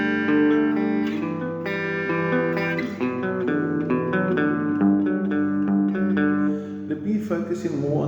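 The pre-chorus part of a song played on guitar, a steady run of picked notes and power chords that rings out close and loud for several seconds without talking.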